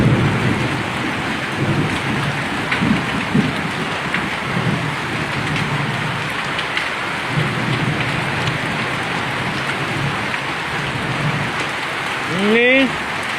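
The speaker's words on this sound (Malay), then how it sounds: "Ini hujan es. Itu es juga jatuh dari langit." Hail pelts a surface in a dense, continuous patter during a thunderstorm in Aceh Besar, Indonesia, with a low rumble of thunder underneath and a few faint voices.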